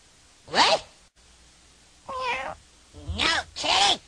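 A cat meows several times, one short cry followed by a pause and then three louder, drawn-out meows close by.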